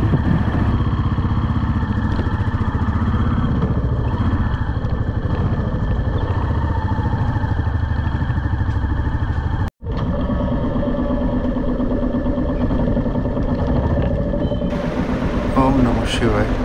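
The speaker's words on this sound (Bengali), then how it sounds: "এই আমি আমার বাইক স্টার্ট করলাম" A motorcycle is started and settles into a steady running idle close by, with a brief cutout partway through and a slight revving near the end.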